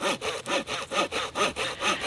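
A slim Outdoor Edge Flip n' Saw folding saw cuts through wood in a steady back-and-forth rhythm of about six rasping strokes, close and loud, with no voices.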